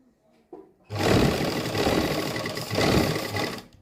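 A sewing machine runs steadily while stitching piping onto a garment, loud and close. After a short click it whirs continuously for nearly three seconds with a brief dip partway through.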